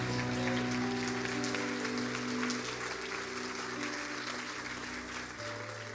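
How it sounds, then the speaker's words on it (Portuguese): Church congregation applauds during a prophetic sermon, a dense sustained patter of clapping over lingering organ or keyboard tones, steady and fairly distant. "Aplauda o Senhor."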